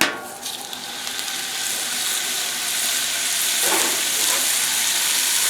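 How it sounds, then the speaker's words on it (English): Meat searing in oil on a hot Blackstone flat-top griddle, a steady close broadband sizzle that holds throughout with a brief louder crackle midway, no talking. "Throw all this meat on."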